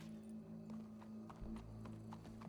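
Horse in the Red Dead Redemption 2 video game, heard as soft hoof clops and faint movement over a steady low game-music hum, with no clear whinny.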